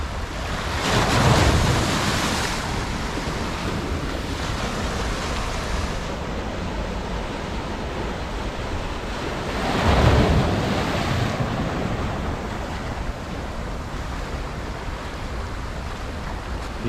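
Breakers roll onto a beach at Rayong, Thailand, in a steady wash of surf with two louder surges, mixed with gusty wind buffeting the microphone and no voices.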